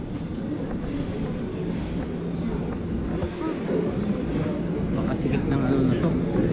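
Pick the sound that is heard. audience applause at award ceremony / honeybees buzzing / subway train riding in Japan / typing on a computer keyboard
subway train riding in Japan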